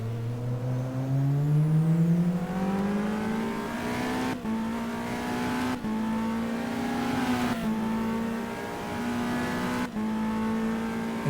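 A Ferrari race car engine in the racing game GTR2 at Monza, droning loud and close as it climbs through the revs, with several sharp gear-change dips before the pitch steadily rises again, no voices.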